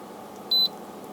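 A BougeRV dual zone fridge gives a single short, clear electronic beep as its temperature is changed through a phone app, heard over a low steady room hum.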